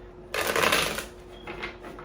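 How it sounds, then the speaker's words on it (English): Tarot cards being shuffled, one close riffling burst of about a second followed by softer card handling, without talk. "I'm gonna do 3 shuffles"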